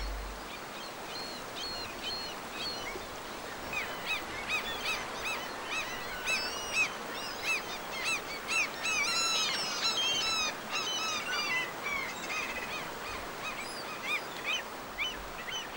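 Seagulls call repeatedly along a salmon river where grizzly bears are feeding, a dense flock of honking, squealing cries rising and falling over steady background rush, loudest midway through.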